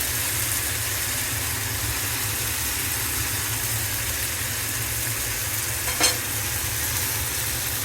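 Pieces of tilapia fish frying in oil in a pan, a steady, loud, dense sizzle that holds evenly throughout, with a small sharp clink near the end.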